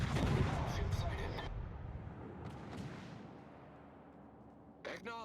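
Battleship guns fire in the World of Warships naval game, one heavy booming salvo at the start that rolls off into a long rumbling decay, then a fainter distant thud and a short burst near the end.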